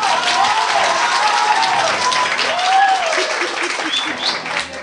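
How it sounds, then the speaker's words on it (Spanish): A classroom of students at a school in Ecuador breaks into applause for a classmate, a loud, dense patter of clapping mixed with cheering voices that fades slightly toward the end. "el aplauso, por favor, Val."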